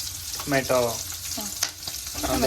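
Paneer curry ingredients sizzle and fry in a pan before tomato goes in, with soft stirring scrapes. A voice talks briefly over the quiet frying.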